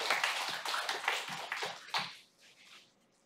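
Congregation in a church claps together, a dense run of fairly soft hand claps that fades out over the last second.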